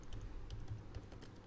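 Quiet, close typing on a computer keyboard while working in Excel, a quick irregular run of soft clicking keystrokes with no voices.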